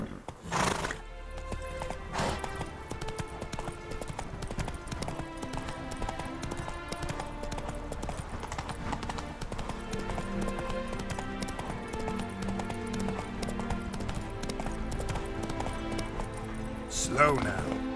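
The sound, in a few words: horse Roach galloping, from The Witcher 3 video game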